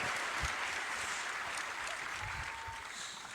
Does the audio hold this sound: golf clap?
yes